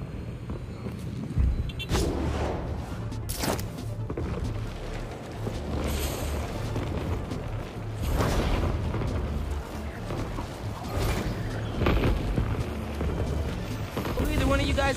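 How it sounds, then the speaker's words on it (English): Fireworks burst in Marvel's Spider-Man 2 on a rooftop, several loud booming pops at irregular intervals over a constant bed of game ambience and city noise. "I knew those fireworks looked shady."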